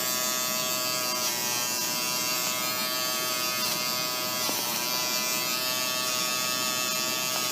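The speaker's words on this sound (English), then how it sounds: "I want to shave her face hair off." Electric clippers buzz steadily and close while shaving a puppy's face hair during grooming, a continuous hum with slight shifts in pitch as the blades move through the fur.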